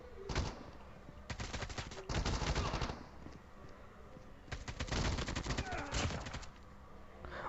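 Rapid bursts of automatic gunfire in Call of Duty, loud and close, in several sustained volleys separated by brief pauses.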